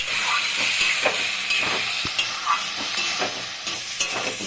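Potatoes with poppy seed paste and a splash of water sautéing in a pan, a close hissing sizzle with repeated scraping stir strokes throughout.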